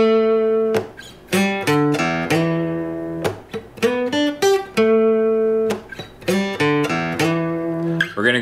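Electric guitar plays a riff in choppy, distorted bursts with short rests between phrases, loud and close, with no talking over it.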